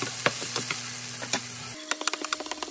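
Minced garlic and onions sauté in leftover tofu frying oil, with a steady sizzle broken by sharp clinks and scrapes of stirring. The sizzle drops away partway through while quick utensil taps continue close by.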